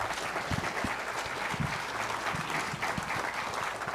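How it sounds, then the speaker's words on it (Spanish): An audience gives a dense round of applause for an engineer after a talk on cost engineering, the clapping steady and moderately distant with a few louder nearby claps. "Un fuerte aplauso, por favor,"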